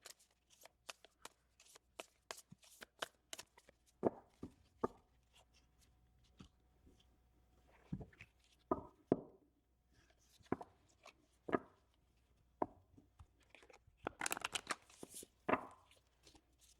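The Rooted Woman Oracle deck is shuffled by hand close up, giving quick papery riffles and soft card slaps in irregular bursts separated by brief pauses, faint and intimate with no talking.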